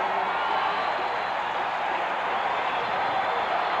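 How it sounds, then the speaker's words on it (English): A large stadium crowd at the Gator Bowl college football game roars in a steady, loud, continuous wash of cheering that holds at full volume throughout. "this crowd has been waiting to erupt"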